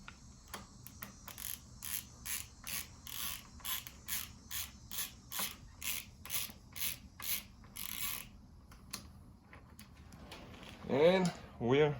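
Ratcheting clicks as a RockShox Recon bike fork cap is unscrewed with a tool, coming in about fifteen evenly spaced close bursts, followed by a short louder creak and rub as the cap comes loose.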